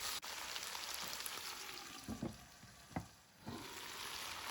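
Chicken and vegetables fry in a pot for a teriyaki dish, giving a steady close sizzle with a few sharper clacks and scrapes as they are stirred. No one speaks.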